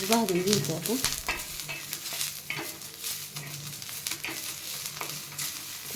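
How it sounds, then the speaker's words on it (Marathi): Onion frying in oil with ginger and garlic, a steady close sizzle broken by scraping stirs and clanks of a spoon against the pan, with no talking. "थोडंसं तेल मी कांदा थोडंसं भाजतो काल आलं लसूण पण टाकून त्याच्यात घ्यायचं"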